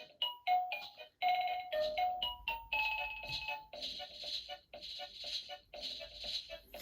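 An interactive Jakks Pacific Yoshi toy figure plays a tinny, bright electronic melody of quick bell-like notes, fairly loud and continuous over a faint background hum.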